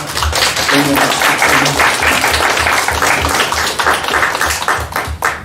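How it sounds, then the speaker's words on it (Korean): A congregation at a Korean Sunday church service breaks into warm applause after a blessing prayer, sustained dense clapping with a low rhythmic thump underneath and a brief voice mixed in. "우리 뜨거운 박수로"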